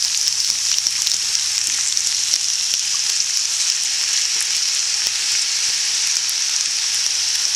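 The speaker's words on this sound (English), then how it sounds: "This is in the pan. And here it's sizzling." Teriyaki chicken sizzles loudly and steadily in a hot pan, a dense continuous crackle of frying with no pauses.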